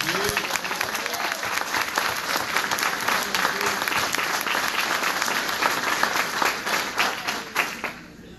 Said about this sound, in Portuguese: Pode aplaudir o Senhor, querido.